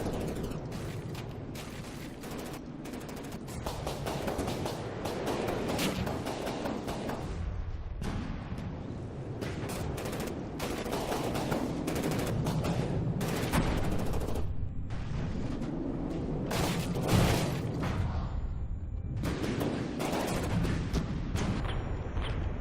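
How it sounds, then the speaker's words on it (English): Laser bombardment from fighter craft in the game From the Depths: a relentless barrage of sharp crackling blasts and booming impacts, dense and continuous, swelling louder toward the end with no voices. "lasers on fighters I never thought was that good, but look at that bombardment"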